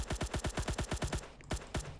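Rapid automatic bullet fire in a Roblox game under development, a quick even train of about a dozen punchy shots, then a brief pause and a few more, close and clean with no talk.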